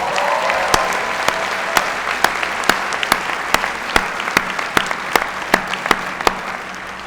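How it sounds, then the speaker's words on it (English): Audience applause at a spring university convocation ceremony, a sustained wash of clapping from a large crowd with distinct sharp individual claps popping out, filling the hall evenly. "A round of applause, please."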